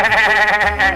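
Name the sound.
cartoon dog imitating a sheep bleating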